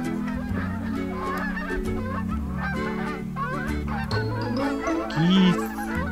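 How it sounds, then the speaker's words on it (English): Geese honk repeatedly in a noisy chorus, several birds calling over one another, with a louder close honk near the end. "Geese."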